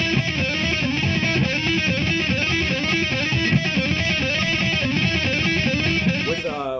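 A heavily distorted electric guitar races through a fast blues rock pentatonic lick in a metal style, a dense, loud, continuous stream of rapid notes played alone.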